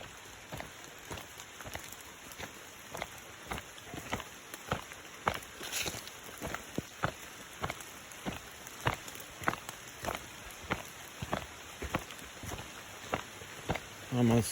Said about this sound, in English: Rain a little bit harder, but you don't really feel the rain because the trees are so thick.